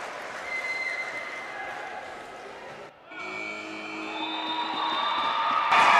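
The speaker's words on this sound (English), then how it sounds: "Oh, the crowd's going wild." Crowd at a wheelchair rugby final in Wellington cheering and applauding loudly, a continuous roar with whoops that swells toward the end after a brief dip, under an excited commentator's voice.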